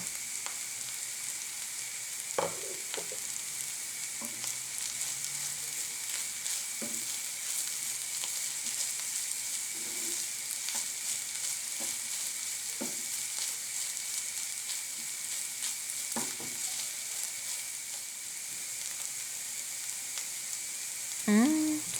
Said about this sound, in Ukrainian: І ще обсмажуємо 1-2 хвилини.